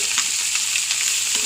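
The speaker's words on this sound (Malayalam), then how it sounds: "അപ്പോൾ മീൻ വറുത്തതായി" Fish frying in a pan on the stove makes a continuous bright, close sizzle of hot oil, with faint crackles and pops scattered through it and no talk.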